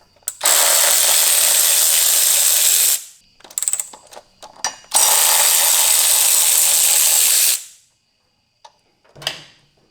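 A ratcheting wrench removes 12 mm pinch bolts on a 2016 Honda F6B motorcycle being disassembled: two long, loud, steady bursts of rapid clicking, with short metallic clicks and clunks between and after.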